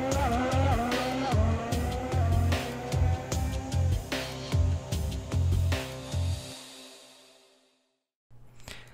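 F1 car from the F1 2018 racing game on a hot lap of Monaco, its engine loud and close, revving high with rapid gear shifts and tyre squeal, then fading out near the end before a brief return.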